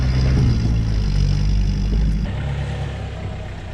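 HJ47 Landcruiser engine labouring up a rocky 4x4 hill climb with rear diff locker engaged, a loud steady low-pitched drone that drops in level partway through.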